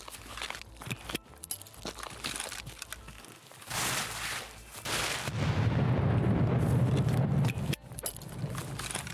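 A grenade goes off in Escape from Tarkov, a deep rumbling blast building midway and rolling on for a few seconds amid scattered gunshots and keyboard clicks, with brief talk early on.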